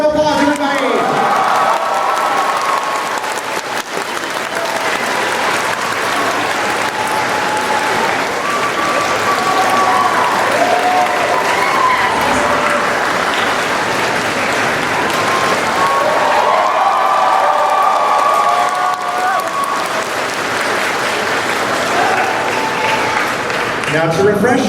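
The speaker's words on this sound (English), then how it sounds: "Give him a round of applause, everybody!" Loud, sustained applause and cheering fill a crowded convention hall at a Sailor Moon 30th anniversary panel as voice actors Toru Furuya and Toby Proctor are welcomed, with a few voices calling out over the clapping.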